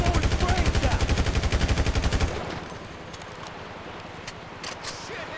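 Rapid automatic gunfire in Grand Theft Auto 5, a loud steady burst of evenly spaced shots for about two seconds that then stops, leaving quieter game noise with a few faint sharp clicks.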